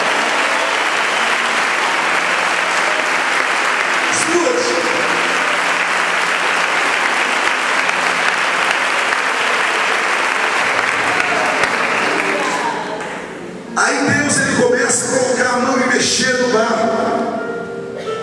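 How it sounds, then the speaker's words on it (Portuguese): A church congregation at a Tuesday night worship service in São Paulo breaks into loud, sustained applause that fills the room for over twelve seconds, then dips and gives way to singing and music with continued clapping. "Aplauda o Senhor bem forte."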